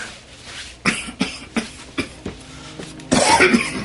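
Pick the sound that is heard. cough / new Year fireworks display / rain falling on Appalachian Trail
cough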